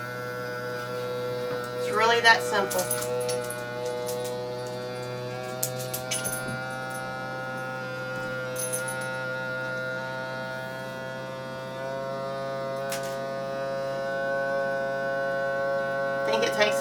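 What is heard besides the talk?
vacuum sealer sealing quart jars of granola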